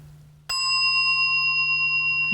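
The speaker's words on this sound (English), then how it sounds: "Now the third sound of the bell." A mindfulness bell struck once during guided breathing meditation, ringing out with a clear sudden onset and then a long, even, sustained shimmering tone that hangs without fading over a faint low hum.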